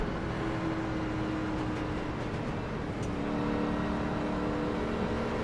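A race car engine drones steadily during an iRacing video game race at the Charlotte oval, a sustained whirring motor tone with slight pitch shifts and faint passing cars, heard alone without talk.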